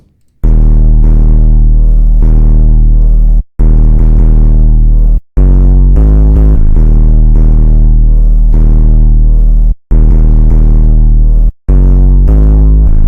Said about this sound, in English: The first drum sound here is this 808.